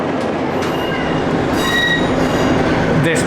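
A worn Class 150 passenger train rolls along the rails on a Cornwall branch line, its steady interior rumble broken by occasional high wheel squeals, heard up close and continuously throughout.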